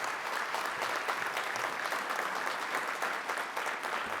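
Steady applause from an audience at a school committee meeting honoring students, dense clapping sustained evenly throughout without voices.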